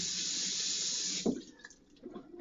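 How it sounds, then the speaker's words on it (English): A kitchen tap runs steadily as a hand is rinsed under it while cooking lasagna, a close hiss of flowing water that cuts off partway, followed by a few soft handling knocks. "let me rinse my hand."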